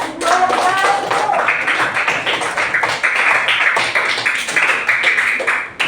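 A classroom full of people clapping steadily for several seconds, dense and fairly loud, with a brief tonal note near the start.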